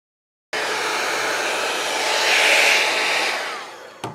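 A T3 Micro AireBrush Duo hair dryer brush drying hair blows a loud, steady rush of air that starts abruptly, swells slightly midway and then cuts off, heard close and alone.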